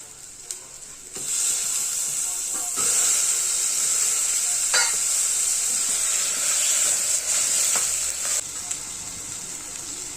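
Chopped tomato and potato sauté in hot oil in a pan for masala rice, a loud, steady sizzle and hiss with occasional stirring scrapes, close up and uninterrupted.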